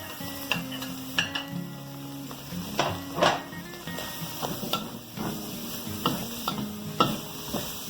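Onion frying in a pan with rice, saltfish and vegetables, a soft sizzle broken by repeated scraping and clinking stirs of a utensil against the pan.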